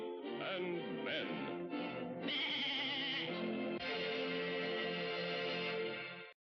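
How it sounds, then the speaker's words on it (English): Cartoon sheep bleating in an old Mighty Mouse cartoon: several loud, wavering bleats in close succession, ending in a long sustained cry, with no talking over them. "And there's the mama sheep."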